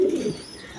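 A Chuya Chandan pigeon gives a single short, low coo close by, fading into quiet room tone.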